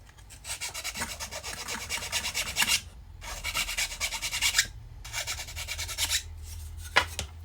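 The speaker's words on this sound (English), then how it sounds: "just use a thin file" A thin file rasps across a wooden bow former for a ship model, in three long bursts of rapid back-and-forth strokes separated by short pauses, then a few quick final strokes, close and clear.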